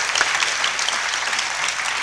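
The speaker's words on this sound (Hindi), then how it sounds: "मैं चाहवांगा जोरदार तालियां नाल इंतजामिया नू मुबारकबाद दित्ती जाए" Steady congregational applause inside a Catholic church on Palm Sunday, a dense wash of many hands clapping together at a fairly loud, even level throughout.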